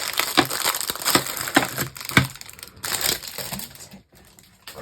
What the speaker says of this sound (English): Crinkly packaging.